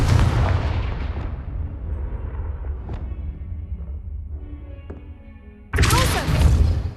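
The Confringo explosion spell in Hogwarts Legacy bursts with a loud booming blast and rumbling decay, followed by a second powerful eruption near the end.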